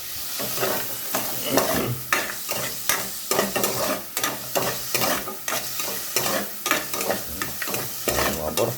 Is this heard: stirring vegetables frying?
yes